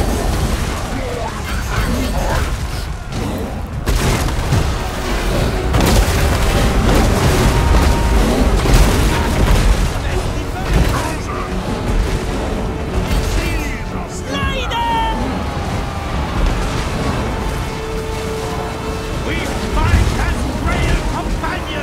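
Cannon fire in the fantasy strategy game Total War Warhammer, a siege battle against castle walls: deep booms and crashes roll over a dense, continuous wash of battle noise, loud throughout the stretch.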